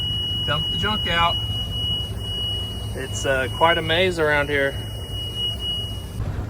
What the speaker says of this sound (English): That way it beeps and we don't forget that it's open